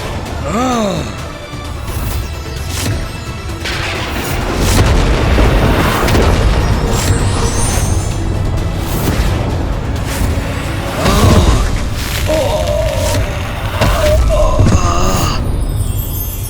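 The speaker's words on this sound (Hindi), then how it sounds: "ये कैसा विस्फोट था?" Explosion effect in a Hindi mythological TV drama: a loud, rumbling blast with deep booms and crashing debris that rolls on continuously under a layered music score.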